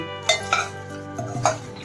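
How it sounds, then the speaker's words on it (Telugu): Eggs with salt, chili and turmeric are stirred in a bowl, giving a few clinks and scrapes of a utensil against the dish at irregular intervals, close and moderately loud, with no talking. "ఉప్పు కారం పసుపు ఈ గుడ్లకి పట్టేలా కలుపుకొని గిన్నెలోకి తీసేసుకుందాం"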